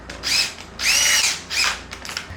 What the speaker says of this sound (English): now I'm gonna have to drill a pocket hole